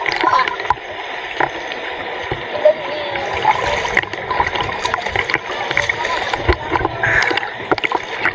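River water splashes and gurgles at Bongabon River in Nueva Ecija, a continuous close, fairly loud rush with scattered splashes throughout.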